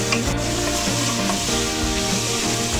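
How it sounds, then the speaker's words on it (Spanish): Onions caramelizing in a pan for paila marina, a Chilean hot seafood stew, stirred steadily under a continuous loud sizzle, with a spoon scraping now and then close by. "La idea es que la cebolla se caramelice. Así que vamos a estar un ratito aquí revolviendo nuestra cebolla."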